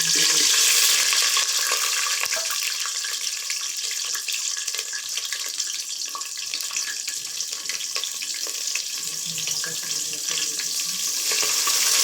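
Food fries in a pan with a loud, dense hiss that holds steady for the whole stretch, close up and without any talking.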